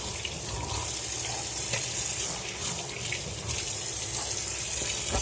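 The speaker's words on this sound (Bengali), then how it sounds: "দুধগুলো ধুয়ে রেখে দিচ্ছি" Water runs steadily from a tap into a sink while milk containers, two litres' worth, are rinsed under it, a continuous broadband splash with small clatters of handling throughout and no talking.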